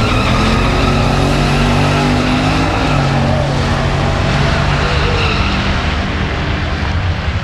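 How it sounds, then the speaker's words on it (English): A Chevrolet Silverado truck accelerates hard down a drag strip, a loud sustained engine roar with broadband rushing noise filling the whole span. "you can hear that Silverado just pouring the coals to it"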